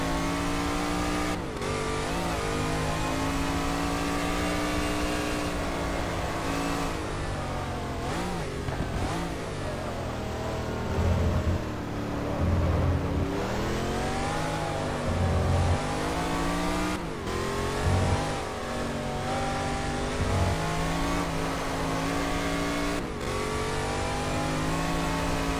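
Race cars in the GT Legends racing game, led by a DeTomaso Pantera, roar continuously as engines rev up and down through gear changes while overtaking, loud and close throughout.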